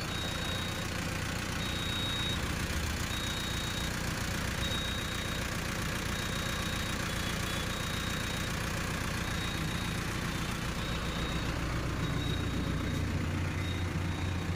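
Steady, loud idle of a Mahindra NOVO 655 4WD tractor engine, a continuous low diesel rumble with a constant drone that never varies for the whole stretch.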